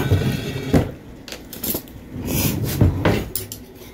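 Spoons and dishes clink and clatter in a home kitchen as a lasagna dinner is served, several sharp knocks and scrapes in an irregular rhythm, close and fairly quiet.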